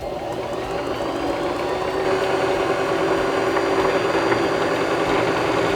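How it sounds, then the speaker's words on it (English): A Singer Start 1304 sewing machine winds a bobbin at speed. Its motor gives a steady, close mechanical hum and whir that grows a little louder partway through and keeps an even drone with no pauses. "now we can push down on our foot pedal again and wind the rest of our bobbin."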